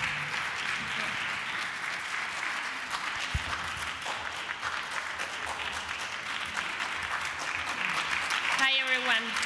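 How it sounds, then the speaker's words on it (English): An audience at a conference claps warmly to welcome a panel, a dense and steady wash of applause that fills the room throughout before a voice briefly begins at the end. "warmly welcome and a big applause to Cristina and the whole panel."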